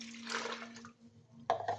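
Water is poured from a glass into a pitcher, giving a short splashing, gurgling pour that fades, then resumes in a brief louder splash.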